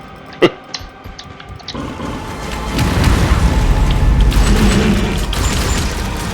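A shotgun blast in the video game Dying Light The Beast: one loud, sharp boom near the start, followed by a smaller crack and then a steady, dense background of game ambience and action noise.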